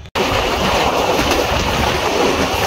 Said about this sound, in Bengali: ট্রেন ছেড়ে দিবে